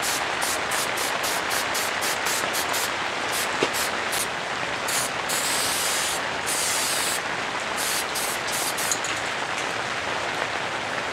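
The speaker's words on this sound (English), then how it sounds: "So anyway, spray paint, fun stuff" An aerosol can of spray paint hissing in close, sustained bursts, with short gaps between the sprays and a steady rain-like spatter throughout, no talking.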